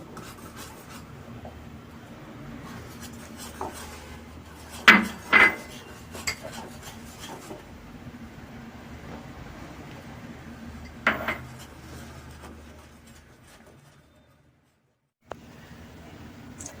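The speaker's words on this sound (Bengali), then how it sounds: "এই ময়দাটি আমি এই ফ্যাটানো ডিমের মধ্যে আস্তে করে মিশিয়ে দেব আর ভালোভাবে গুলব" Flour is folded into beaten eggs in a bowl, heard as soft steady scraping and rubbing, broken by a few louder clinks of utensil against the bowl, then a brief quiet.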